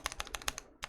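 Backspace key on a custom Gingham mechanical keyboard, tapped in a rapid run of sharp, close clacks with a brief gap before a final pair of presses.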